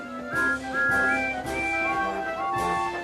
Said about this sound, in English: All three engines blew their whistles